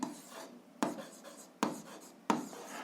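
Pen on paper writing out the answer to an algebra system, four distinct scratching strokes spaced apart, close and quiet, heard alone.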